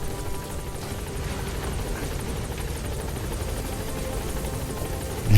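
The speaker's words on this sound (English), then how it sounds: "Support helicopter has arrived." A support helicopter arriving in Metal Gear Solid V, its rotor thudding loudly and steadily in a continuous close chop, alone without speech.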